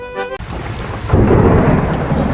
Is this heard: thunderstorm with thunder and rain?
yes